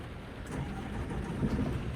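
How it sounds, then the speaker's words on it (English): Bus engine starting in the driving game The Bus, a steady mid-pitched rumble building slightly over two seconds, fairly close and continuous with no talk. "Start the engine."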